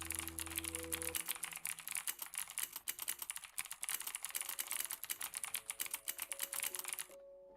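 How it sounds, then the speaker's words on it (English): Rapid, continuous clacking of computer keys, close and crisp, typed in uneven bursts before stopping abruptly. "I shall do some more typing."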